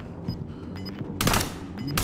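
Gunfire in the battle-royale shooter Call of Duty: Warzone, set in Verdansk: a few short scattered shots early on, then a loud, dense burst of automatic fire, with another close burst at the very end.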